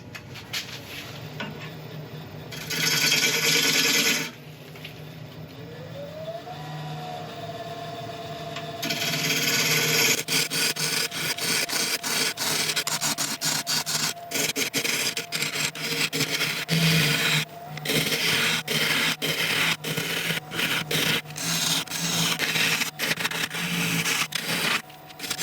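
A woodturning gouge cuts into rotten elm spinning on a lathe, a steady scraping, rasping drone with a mechanical hum beneath and repeated bursts of grinding contact, loud and close throughout with no talk.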